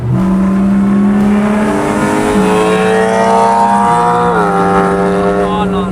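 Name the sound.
BMW 335i car engine revving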